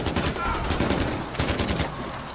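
Rapid automatic gunfire in the video game Far Cry 4, loud bursts of shots running almost continuously with dense game action behind them.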